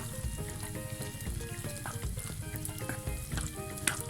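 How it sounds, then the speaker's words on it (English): Vetkoek dough frying in hot oil gives off a steady, close sizzle and crackle with no talk over it. "So the last two Vetkoek just went into the oil."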